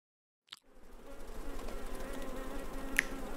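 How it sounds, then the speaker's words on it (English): Buzzing insect sound effect from a children's flashcard app on iPhone, a steady droning hum that starts after a brief click and continues evenly, with a sharp tiny click near the end. "Bugs."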